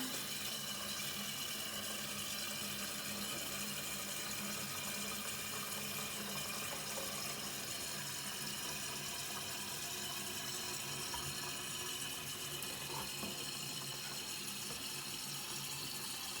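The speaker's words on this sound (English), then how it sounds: "You can hear it filling." Water runs steadily into a Schwab Fluidmaster 187.1200 concealed toilet cistern as it refills after a test flush, a constant hiss and trickle with a faint hum, continuous and fairly quiet throughout with no talk.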